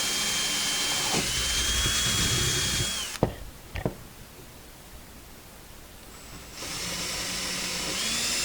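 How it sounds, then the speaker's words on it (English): A power drill boring a hole through a coconut in a kitchen, with a steady high whine for about three seconds, then a quiet gap with a couple of knocks, and the whine resuming near the end. "I'll just drill another one"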